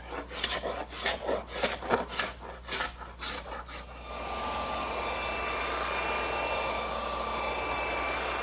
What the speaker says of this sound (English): I'm going to unclamp it, scrape off the excess glue,